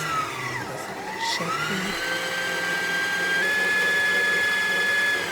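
A sewing machine being run for a maintenance check before oiling, giving a steady mechanical whir that shifts pitch early on and then holds an even hum throughout, with a brief spoken word near the start.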